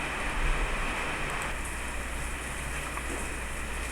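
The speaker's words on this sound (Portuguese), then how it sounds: "Uma chuvinha aqui para alegrar a gente." Light rain falls steadily, a soft, even hiss of drops that continues without a break and with no voices.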